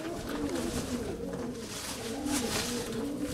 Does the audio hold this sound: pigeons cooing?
yes